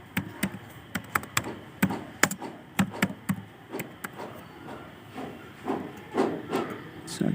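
Fingers tap out a name on a computer keyboard, a quick run of sharp, close keystrokes in irregular bursts over a light background hiss, with the clicks thinning out toward the end.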